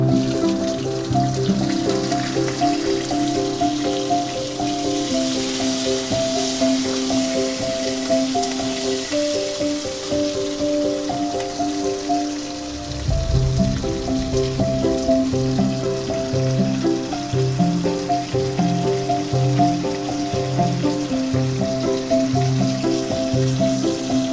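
Bay leaf, whole cumin and green chilli sizzling in hot oil over a low flame, a steady crackling fry heard close and moderately loud beneath a persistent tonal hum.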